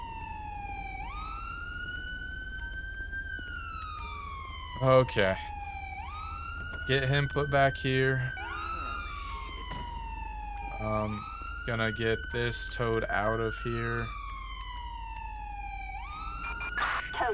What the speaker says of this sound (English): I'm not trying to listen to that siren.